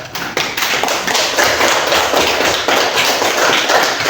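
Classroom applause fills the room, a loud, dense burst of many hands clapping together that keeps going steadily with no talk over it.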